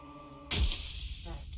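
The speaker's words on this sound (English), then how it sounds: "that glass shattering sound right at the end there made me jump so hard" Glass shatters loudly in the video game Slay the Princess, a sudden crash after a quiet, droning tonal stretch, followed by a long bright tail of tinkling shards settling away.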